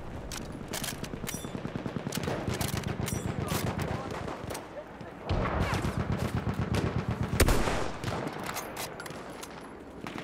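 Rapid automatic gunfire and sniping in the video game Battlefield 1, dense continuous bursts of shots with a heavier volley midway, loud and close throughout.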